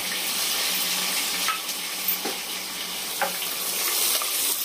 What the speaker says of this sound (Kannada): ಚೆನ್ನಾಗಿ ಎಣ್ಣೆಗೆ ಬಾಡಿಸ್ಕೋಬೇಕು.